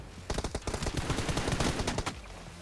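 Rapid automatic gunfire in PUBG Mobile, a tight string of sharp, evenly spaced shots in one sustained burst lasting about two seconds, loud and close, with no talk over it.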